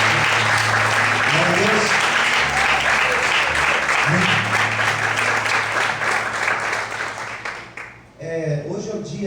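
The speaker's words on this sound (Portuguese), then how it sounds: "Você pode aplaudir bem forte o Senhor nesta noite?" Church congregation applauds loudly and continuously for several seconds, a thick roar of clapping with a voice speaking over it, easing off near the end.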